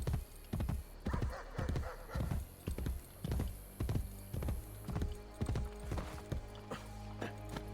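Horse hooves clip-clop in a steady, rhythmic gallop in Assassin's Creed Brotherhood, loud and close, with a whinny partway through and game music droning underneath.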